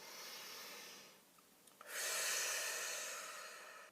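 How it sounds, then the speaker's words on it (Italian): A person takes a slow, deep breath, a soft airy rush that eases off briefly and then swells into a fuller, louder inhale or exhale close to the microphone. "facciamo un bel respiro profondo."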